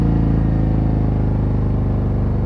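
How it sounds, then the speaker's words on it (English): Harley-Davidson CVO Road Glide ST with a 135 engine decelerating under engine braking, a loud, steady low rumble with a pulsing, throbbing exhaust note heard up close. "Oh, the engine braking is good."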